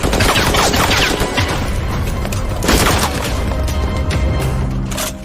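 Dense, continuous bursts of gunfire in a film battle scene with heavy booms and blasts, loud and close, filling the whole stretch with rapid overlapping shots.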